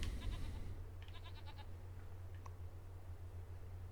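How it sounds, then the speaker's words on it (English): Goats in a pen on a farm in the Farming Simulator video game: a few short, faint bleats rising over a steady low engine-like hum, the first at the very start and the clearest burst about a second in. "He's got another pen of goats."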